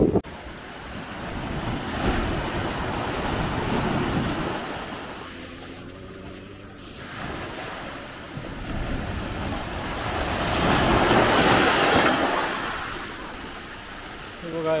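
Surf washes in at Gorai Beach, Mumbai, during an extreme high tide, with broad rolling swells that rise and fade over several seconds, mixed with wind buffeting the microphone and a brief engine-like hum partway through.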